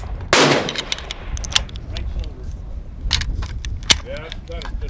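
A rifle fires a single sharp, loud shot at an outdoor shooting range, followed by faint clanks and handling noises.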